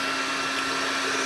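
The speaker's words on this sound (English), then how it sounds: "Apart from them fans, no noise at all whatsoever." Cooling fans on a Kingroon KP3 budget 3D printer whir in a loud, steady, close broadband rush with a constant hum and no other sounds.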